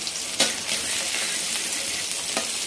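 Onion and garlic sizzle loudly and steadily in a pan, a dense continuous frying hiss with a couple of sharp stirring scrapes, no voices.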